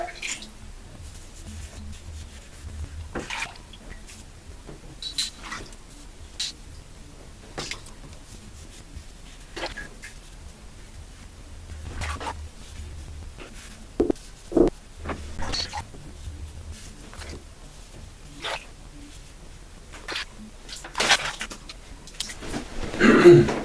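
Razor making a first pass with the grain over a face lathered with Barrister & Mann Night Music soap: scattered short scraping strokes with small water drips and rustles, quiet and close, with no talking.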